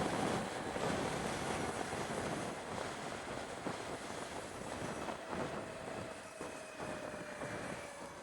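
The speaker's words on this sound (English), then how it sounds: "Okay, but it's oh so quiet. Just kind of has like a whirring sound to it." A 2022 Zero FXE electric motorcycle being ridden, giving a steady, quiet whir with a faint rising tonal whine under broad rushing wind noise, continuous throughout and without talk.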